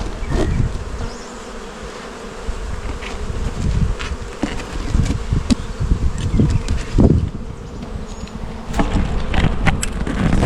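Loud buzzing of many honeybees from a split nucleus hive fills the air close by, a continuous droning swarm with occasional knocks and thumps.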